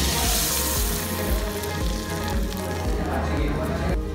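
Butter sizzling on fish meunière in a hot pan with lemon, a steady loud frying hiss that runs continuously throughout.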